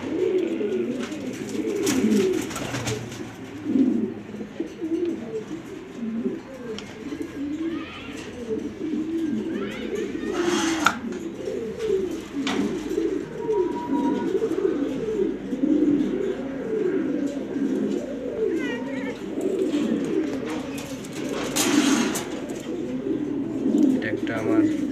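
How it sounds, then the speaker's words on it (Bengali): Breeding male pigeons coo steadily in low, rolling, overlapping calls throughout, close and continuous, with occasional brief louder noises over the cooing. "ব্রিডিংয়ের কবুতর, আপনারা চাইলে নিতে পারবেন। নর কবুতর"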